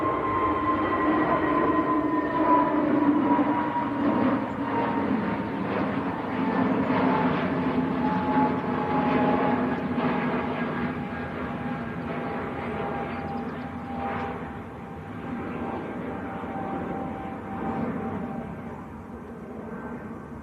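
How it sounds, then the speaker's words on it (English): A Lufthansa airliner lifts off from Manchester Airport bound for Munich, its engines a steady, broad roar that holds for the full twenty seconds and eases only slightly toward the end, with no talking. "Lufthansa getting airborne."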